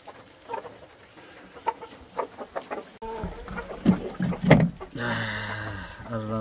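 Hens cluck and murmur in a coop, with soft scattered calls that grow louder and busier partway through, plus faint background rustling.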